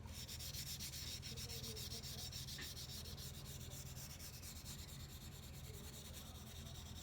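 Violin bow hair rubbed back and forth across a block of rosin makes a faint, continuous dry scratching, steady and close with no pauses, and nobody speaks over it.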